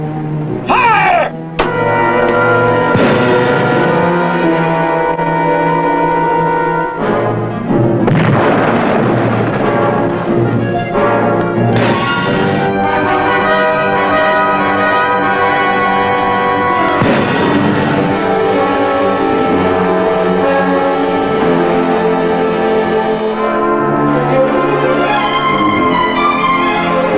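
A WWII submarine fires a spread of torpedoes, a loud, dense rumbling roar with heavy thuds and booming surges that stays dominant throughout, over a dramatic music bed.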